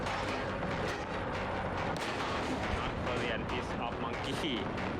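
An AMX-30 AuF1 self-propelled artillery gun fires at a Tiger tank in War Thunder, with heavy booming shots and rumbling explosions packed into dense, loud battle noise while someone talks over it.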